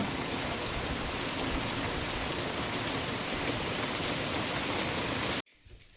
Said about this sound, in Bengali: বর্ষাকালে যেমন বৃষ্টি হয় তেমন হচ্ছে